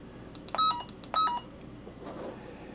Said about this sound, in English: Let me turn the beep back on.